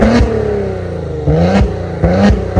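Revving exhaust note from a Maserati Ghibli's Ferrari-built V6, three loud blips that each rise and fall back to a burbling idle, close by with no talking.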